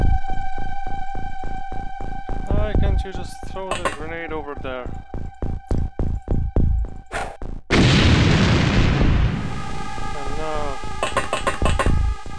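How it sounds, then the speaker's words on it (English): In the video game XCOM: UFO Defense, a grenade goes off as one loud, broad explosion partway through, after a run of rhythmic clicking game sounds, while a person talks over parts of it. "Let's also throw that grenade over."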